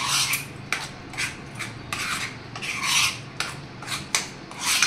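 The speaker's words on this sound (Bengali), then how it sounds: "এর মধ্যে দিয়ে দিলাম একটু সর্ষের তেল, করে এটাকে আমি মিক্সড করে নেব।" Henna paste stirred with a little mustard oil in a bowl, a rhythmic series of close scraping, rasping strokes of a spoon against the container, repeating roughly every half second with no talking.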